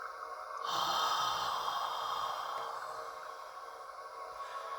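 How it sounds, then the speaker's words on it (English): A single gentle inhale drawn through the nose, a soft breathy rush that swells near the mic and slowly tapers off, with no talking over it. "breathe easily through their nose, easy, gentle breaths in"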